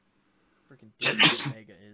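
A single loud, close sneeze bursts out after a few quiet spoken words, with a voice talking over its tail during a Minecraft game session.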